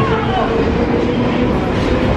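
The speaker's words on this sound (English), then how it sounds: "waiting to get onto our tube" A London Underground tube train rumbles steadily nearby with a constant low roar and faint metallic whine, no voices standing out.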